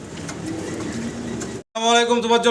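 Low, soft pigeon coos murmur steadily for a moment in a pigeon farm shed, then a brief silence before a person starts talking close by.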